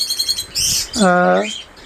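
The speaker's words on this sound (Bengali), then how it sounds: "আর এক জোড়া পাখি আছে লটিনো কোকাটেল" Lutino cockatiels at a bird shop give a quick run of thin, high chirps, followed by a longer, fuller call that rises and falls, close and fairly loud.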